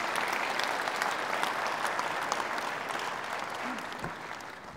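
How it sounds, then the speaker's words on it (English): An audience at a lecture event applauds steadily and fairly loudly throughout, the clapping tapering slightly toward the end. "Give them a big round of applause."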